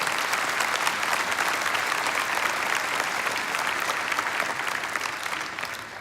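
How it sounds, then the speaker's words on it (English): A large arena audience at a charity memorial service claps warmly in a steady, dense wave of applause that slowly eases off toward the end. "Yeah, let's clap that."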